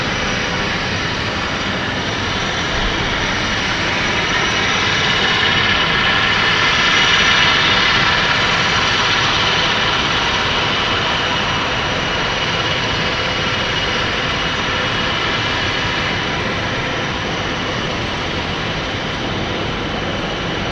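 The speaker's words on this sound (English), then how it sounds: "Taking a very long time for the engines to start up" Jet airliner engines spool up during start at London City Airport, a steady, dense roar with a high whine that swells slightly and holds for about twenty seconds, close and loud with no talking.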